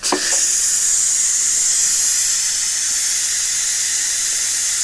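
Steam hisses loudly and steadily from the pressure release valve of a Ninja Foodi multicooker after cooking paella, a broad continuous rush that starts abruptly and holds for several seconds.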